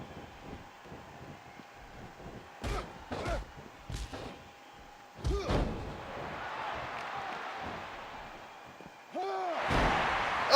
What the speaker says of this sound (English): Just slams him down.